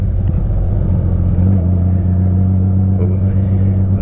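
A Honda Goldwing motorcycle pulls away from a gas stop, its engine a loud, steady low drone with a deep humming tone that holds throughout, with no voices.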